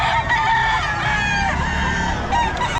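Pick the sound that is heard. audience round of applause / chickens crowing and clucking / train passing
chickens crowing and clucking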